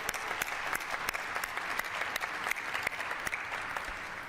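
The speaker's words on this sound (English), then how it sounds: "let's applaud the heroic effort of our frontline healthcare workers and volunteers here at Ford Field and statewide." A crowd at Ford Field applauds healthcare workers and volunteers, with dense, sustained clapping and sharp individual claps standing out throughout.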